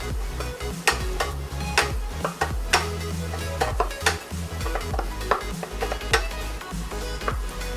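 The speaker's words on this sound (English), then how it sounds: "we're gonna go ahead and add our beets in there. Stir that around." Beets sauté in a pan with melted fat, sizzling steadily and close while a utensil stirs and scrapes against the pan in irregular knocks and clinks.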